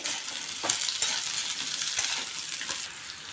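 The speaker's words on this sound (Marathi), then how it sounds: "या कांद्याला सुद्धा गोल्डन आकार येईस्तोपर्यंत मस्त असं भाजायचं आहे" Onions frying in a pan until golden, a steady bright sizzle with a few stirring scrapes and light utensil knocks, close and alone without speech.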